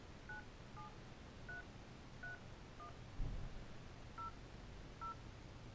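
Dual-tone keypad beeps from an iSavi satellite phone being dialed, seven short evenly spaced tones in a steady run over faint background hiss, with no talking.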